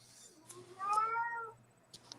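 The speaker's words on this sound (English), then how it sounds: "And we have a kitty complaining." A domestic cat meows in a drawn-out, complaining cry, a single call rising and falling near the middle, fairly close and alone over a low steady hum, with a couple of faint clicks afterward.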